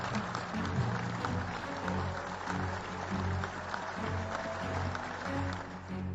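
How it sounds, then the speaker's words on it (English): A crowd claps and cheers in a dense, steady wash of applause that holds at an even loudness throughout and shows no clear gaps. "The crowd cheered and clapped with excitement."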